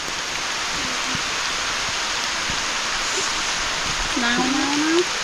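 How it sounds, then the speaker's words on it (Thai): Steady rain falls in a rural spot beside a pond, a dense, even hiss that persists throughout. A person's voice rises faintly near the end. "ฝนตกรอบที่4อีก"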